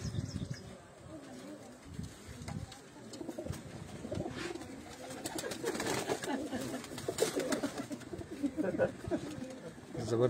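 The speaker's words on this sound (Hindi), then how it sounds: "लाखा कबूतर" A Lakha pigeon cooing softly at a gathering, low murmuring calls repeated beneath steady background chatter and voices, with occasional faint chirps and rustling nearby.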